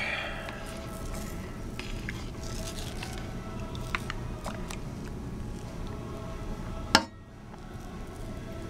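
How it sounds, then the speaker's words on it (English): Firmed homemade laundry detergent is stirred in a container, wet squishing and scraping with occasional light clinks, close by, ending in a sharp knock. "So I'm going to stir this up."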